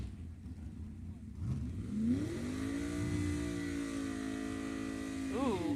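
A 1984 Ford Thunderbird with a 351 cubic inch Ford V8 launches down a drag strip, its engine climbing into a sustained, strained high-rev roar heard from the stands, with a voice talking over the start.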